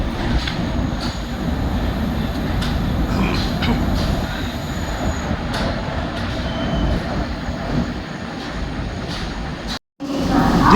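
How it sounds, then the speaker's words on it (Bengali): Samudra Kanya Express pulling into Bhubaneswar station at night, a steady loud rumble of rolling coaches with faint wheel squeal and clatter throughout, a brief dropout near the end. "আমাদের ট্রেন এখন ভুবনেশ্বর স্টেশনে ঢুকছে"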